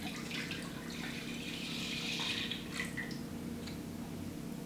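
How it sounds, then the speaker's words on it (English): Milk pours into a cooking pot for homemade cheese, a continuous soft splashing trickle over a faint low hum, close and steady with no talk. "just pop your milk into your pot"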